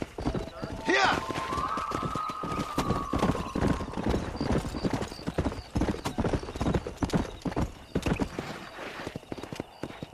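Horse galloping with rapid clip-clop hoofbeats and a brief whinny in a Red Dead Redemption 2 style Western video game, loud and continuous with game sounds and occasional voices.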